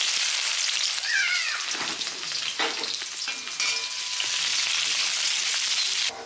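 Onions fry to a deep brown on a gas stove for biryani, giving a loud, continuous sizzle with scraping stirs and clatter close by.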